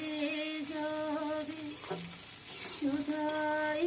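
Onion stalks (peyaj kali) sizzle and fry in a pan while being stirred, a steady close crackle with spatula scrapes running through the whole stretch and no talking.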